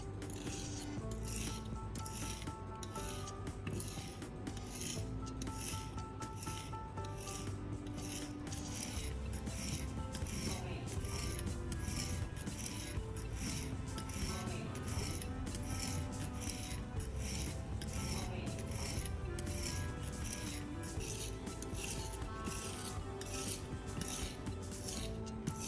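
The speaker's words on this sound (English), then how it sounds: "Now I'm starting to sharpen the blade." Pruning shears blade being sharpened on a sharpening stone, a steady, continuous rasping scrape of repeated strokes, fairly quiet, with no talking.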